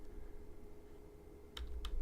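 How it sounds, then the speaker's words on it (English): A computer keyboard clicks twice in the dark over a steady background hum, two short close keystrokes near the end. "Old man typing."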